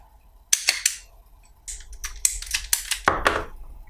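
Plastic central heating pipe being cut shorter, heard as a few sharp snapping clicks and crunches in quick bursts, close and fairly loud, with no talking.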